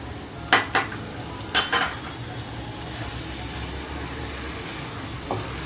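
Lemon rice stirred in a pan with a spoon: a few sharp scraping strokes and clinks early on, then a quiet, soft sizzle with one last light scrape near the end.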